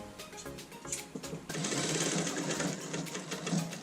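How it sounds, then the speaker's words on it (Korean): A sewing machine stitches down the seam allowance while reworking a dress with a deeply open back, running in a steady, close, continuous mechanical whir that grows louder and denser midway. "시접을 다 박았습니다"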